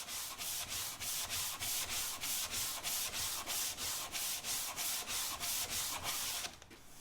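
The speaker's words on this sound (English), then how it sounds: "So I'm not pressing down with the sanding block, I'm just moving it back and forth." Steady back-and-forth sanding on a wall cabinet with a wood sanding block, rhythmic rasping strokes repeating evenly under light pressure, close and fairly loud, stopping just before the end.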